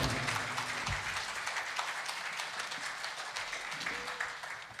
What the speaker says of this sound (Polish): Dla przyjaciół Lejek wielkie brawa.